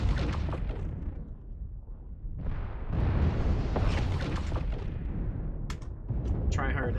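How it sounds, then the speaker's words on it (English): Plasma cannons firing in a multiplayer shooter match: heavy repeated booming blasts and rumbling impacts over several seconds, loud and dense, with a commentator's voice talking over the battle noise. "Tryhard Edgelord just punishing Vatic with those plasma cannons"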